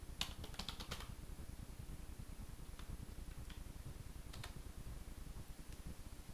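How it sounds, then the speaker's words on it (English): Typing on a computer keyboard while entering a Wi-Fi password during device setup: a few sparse, faint clicks and taps over a steady background hum. "I'm going to use a keyboard to try to expedite this."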